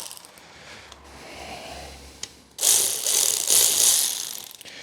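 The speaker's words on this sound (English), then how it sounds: "taking them out with a cordless ratchet with an impact gun" A cordless ratchet spins out bolts from a Lotus Excel gearbox, first a quiet light click, then a loud close buzzing whir that runs for about two seconds in uneven spurts.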